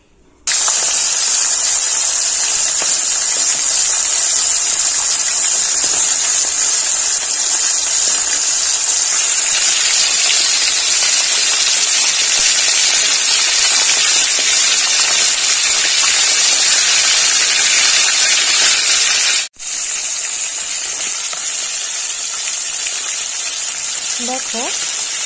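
Pomfret fish pieces fry in hot oil in a wok, a loud, continuous sizzling hiss that lasts throughout and eases slightly after a brief clunk near the end.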